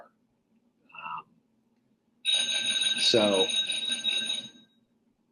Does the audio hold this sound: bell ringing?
yes